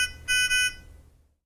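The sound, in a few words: pulse oximeter audible alarm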